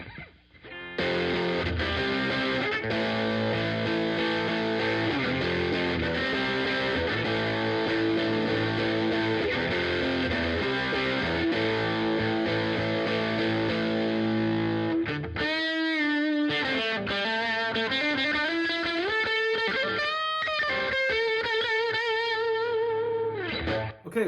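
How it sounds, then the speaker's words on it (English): Electric guitar played through the bridge position of a Fender Stratocaster Player HSS Plus Top with mild crunch distortion, a continuous run of strummed chords and then sustained bent single notes, steady and loud, with no talking. "still bridge position. We're gonna turn up some crunch, mild distortion."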